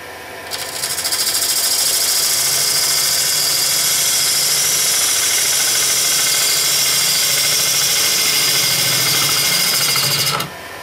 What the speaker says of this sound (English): We're just going to clean up this bottom edge. Using a bowl gouge again.